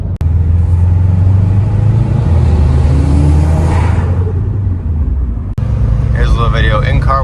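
A modded 2005 Subaru Legacy GT engine heard from inside the car with the windows down: a loud, steady low rumble that swells as the revs climb midway, then settles. A voice talks near the end.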